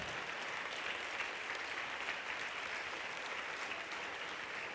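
Audience applause at a live music concert, a steady dense wash of clapping that holds evenly throughout at moderate distance, with no voices standing out.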